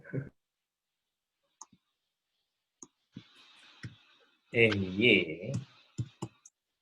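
An Acer computer keyboard gives sparse, sharp single clicks and taps spread across the moment, with a person talking in between.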